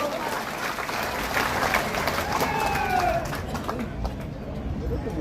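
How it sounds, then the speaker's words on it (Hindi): Rally audience at a political event in Itkhori clapping together, a steady broad wash of applause and crowd noise filling the whole stretch at moderate level. "हुए हैं तो हाथ उठाकर ताली बजाइए"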